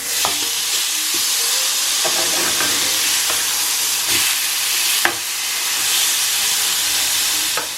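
Steaks frying in a pan on a home stove, a steady close sizzle and hiss running throughout with a few small pops and clinks.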